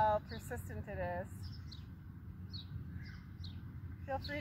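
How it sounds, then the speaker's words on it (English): An unidentified bird calls outdoors with a few short, faint chirps spread over a few seconds against a quiet background, while a person talks at the start and end. "Feel free to send me a message if you know what bird was making that sound."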